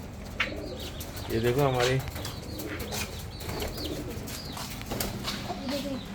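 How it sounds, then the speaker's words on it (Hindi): Pet pigeons kept at home cooing, a nearby soft warbling coo rising over room noise and scattered rustles, with a person speaking throughout. "ये हमारे कबूतर हैं।"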